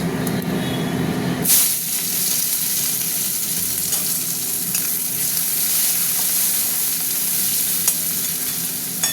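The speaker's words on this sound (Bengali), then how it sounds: "পেঁয়াজটা একটু ভাজা ভাজা হতে থাক" Onions dropping into hot oil with bay leaf, dried chilli and whole cumin set off a sudden loud burst of sizzling that then carries on as a steady, close, hissing fry with no talk.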